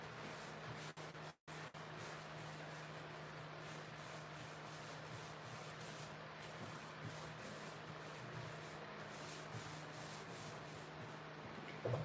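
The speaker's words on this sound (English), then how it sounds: "I think it's clear gloss top coat. And I just spray it." A clear gloss top coat being sprayed continuously onto the inside bottom of a piece under restoration, giving a steady close hiss that runs almost without break, with a short dropout early on.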